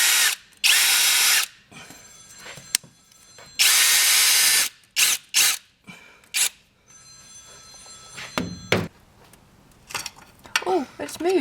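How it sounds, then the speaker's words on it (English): A power drill drives a tech screw into a rear main seal on a Volvo 940 drift car, loud bursts of whirring repeated in several short runs with pauses, plus clicks and brief speech between. "I'm going to try and put a tech screw in it so I've got something to actually pull on"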